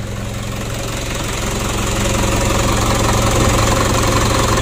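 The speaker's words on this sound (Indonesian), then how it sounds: "Untuk mesin mobil ini suaranya tidak begitu kasar di saat idle" A car engine with a remapped ECU idles close up, a steady, fairly smooth low rumble with a faint ticking knock that swells slightly louder midway and holds to the end, with no voices.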